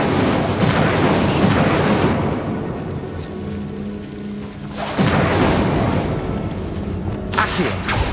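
Incendio fire spell cast repeatedly in Hogwarts Legacy, heard as loud whooshing bursts of flame with booming impacts over a continuous busy game soundscape, one fresh burst arriving about midway.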